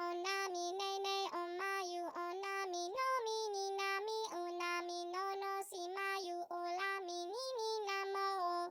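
Robotic, pitch-corrected and pitch-shifted vocal sings a steady run of stepped, hard-tuned notes, with layered bright harmonics and no spoken voice over it.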